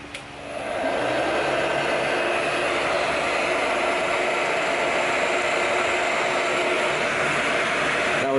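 A heat gun blows a loud, steady whooshing roar while warming the edges of racing stripe vinyl on a car, starting abruptly and holding constant without pause.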